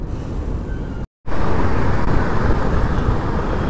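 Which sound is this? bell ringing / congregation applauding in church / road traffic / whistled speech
road traffic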